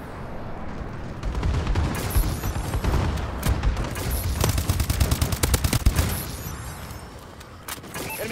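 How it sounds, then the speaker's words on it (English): Airstrike bombing run in Call of Duty: Advanced Warfare, a dense barrage of rapid explosions and gunfire building to a heavy, sustained roar before tapering off near the end. "Friendly bombing run clearing the way."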